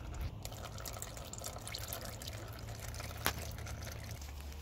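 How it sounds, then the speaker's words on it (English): Transmission oil draining and dripping from a Mercedes 7G AMG 7229 automatic transmission during valve body removal, a soft continuous trickle with faint drips under a low hum and one brief sharp tap near the end. "Moving it to the side a little bit to drain more of the oil."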